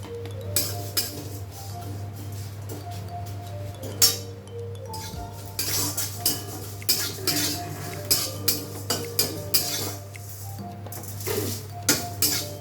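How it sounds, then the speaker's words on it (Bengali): A metal spatula works cumin, coriander, fennel and dried chilies around a dry kadai, giving repeated close clinks and scrapes in uneven bursts over a steady low hum. "জিরে, ধনে, মৌরি আর শুকনো লঙ্কা আমি কড়াইতে ভেজে নেব।"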